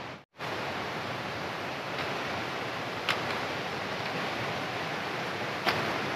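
Steady broadband rush of stream water flowing beside the Jarogo waterfall in Swat, a constant close wash with a few faint clicks, no voices.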